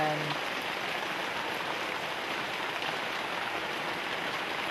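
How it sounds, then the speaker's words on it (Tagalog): Steady rain patters and drips on a surface, a dense, even hiss that continues throughout without pause. "yung tulo ng ulan"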